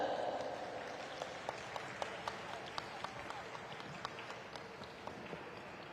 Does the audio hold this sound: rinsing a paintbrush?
no